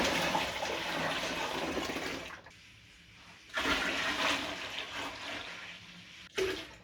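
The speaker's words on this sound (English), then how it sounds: "I'll be right back once I have filled this one with water." Water gushes into a large container for mead brewing, a steady rushing pour that stops briefly, restarts, and then cuts off near the end.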